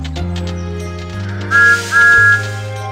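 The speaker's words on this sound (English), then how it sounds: "This is Thomas's whistle." Thomas the Tank Engine blows his whistle in a railway video game: two bright, steady whistle blasts sound in quick succession over a low, constant engine rumble.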